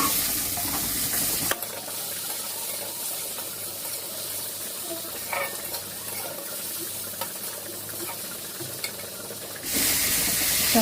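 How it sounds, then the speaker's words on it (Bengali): Chopped tomato goes into a pan of lightly fried chopped onion while cooking a rohu fish dish, giving a steady close sizzle with stirring scrapes that runs for about eight seconds before fading out. "এবারে দিয়ে দেবো টমেটো কুচি"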